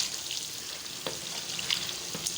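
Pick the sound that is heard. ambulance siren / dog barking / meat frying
meat frying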